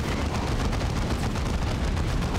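Grenade launcher blasts from the Warhammer 40K game Dawn of War 2 Chaos Rising, a steady dense rumble of explosions and debris filling the whole moment without any voices.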